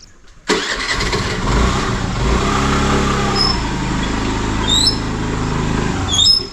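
A car engine cranks and catches, then runs at a steady close idle with a low rumble, swelling briefly near the end.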